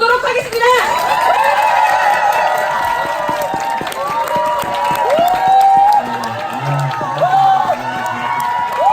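A crowd at a company group meeting claps, cheers and whoops to welcome a sponsor company president to the stage, loud and lively throughout with a voice speaking over the noise, likely amplified.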